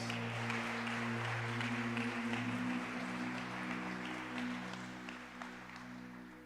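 Church congregation applauding in worship, a dense sustained clapping wash held over steady organ or keyboard tones, fairly loud and even before easing slightly toward the end.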